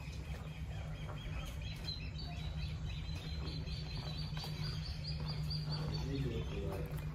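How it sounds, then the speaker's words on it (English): Birds chirp faintly outdoors, with scattered light calls over a steady low hum and constant background noise; no one speaks. "the birds are chirping."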